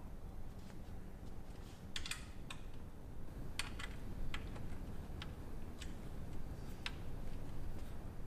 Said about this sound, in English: So there's the 4 screws and nuts being removed.